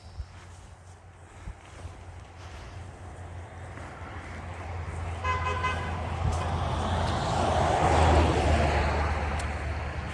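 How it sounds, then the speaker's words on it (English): A short car horn toot sounds once from a passing vehicle amid low traffic rumble, followed by the swelling whoosh of the car going by. "Friend honking as he drove by."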